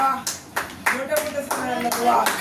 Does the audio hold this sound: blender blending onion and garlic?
no